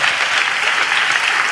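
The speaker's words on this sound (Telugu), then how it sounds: "చప్పట్లు కొట్టి యేసయ్యకు స్తోత్రాలు చెప్దాం" A church congregation claps in praise of Jesus, loud, dense and continuous applause filling the room with no break.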